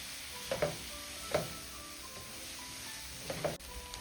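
Onion frying in a pan for Dagestani chudu with herbs, a quiet low sizzle broken by a few soft scraping stirs of the pan, with no talk.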